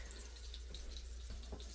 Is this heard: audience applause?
no